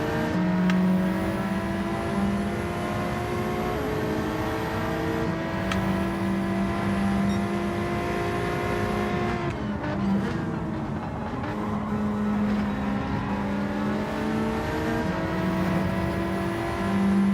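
A BMW race car in Gran Turismo 7 drones loudly and continuously throughout, its engine pitch rising and falling with shifts and revs, with no talk over it.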